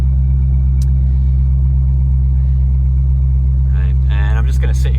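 A Spec Corvette race car engine idles while warming up, a loud steady low rumble held throughout, with a person's voice briefly talking over it near the end.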